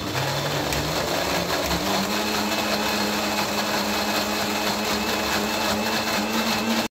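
A mixer grinder whirs steadily as soaked urad dal is ground into batter, a loud continuous motor drone with a rising pitch near the start, no talking.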